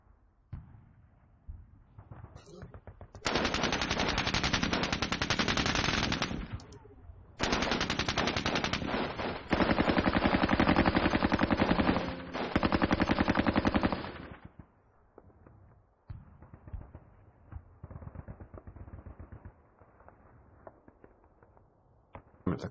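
Sustained bursts of rapid automatic gunfire from a John Tiller wargame, loud and dense, in several long strings separated by short gaps, followed by quieter scattered shots and rumble.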